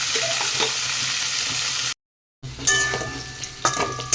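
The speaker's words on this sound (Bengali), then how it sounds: "একটু আলুটাকে ভেজে নেব" Potatoes fry in oil with cumin and bay leaf in a pan, sizzling loudly and close, with stirring scrapes and clatter after a brief pause and no talking.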